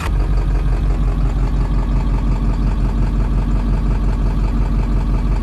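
Inside the cab of a truck, the engine idles in a steady, loud low rumble that holds at an even level throughout, with no talking.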